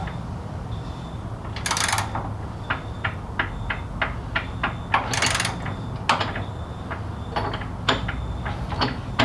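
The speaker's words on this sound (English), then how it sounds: "we will torque it to spec, which for these is 100 Newton meters, which is 74 foot-pounds." A torque wrench clicks in short sharp bursts, with several ratchet strokes, as it tightens a driveline bolt to 100 newton meters on a Tesla-powered Volkswagen Vanagon. Faint background hum sits underneath and there is no talk.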